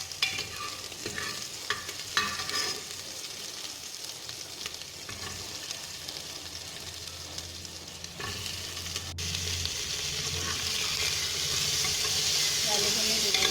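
Vegetables and dal for khichdi fry in a pan, a steady sizzle and hiss with occasional stirring scrapes that grows louder and brighter toward the end.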